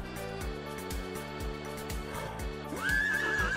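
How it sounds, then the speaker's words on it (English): Horse neighing in The Sims, a whinny rising over steady game music and rhythmic background sounds, loudest near the end. "Harry, go buy a different horse"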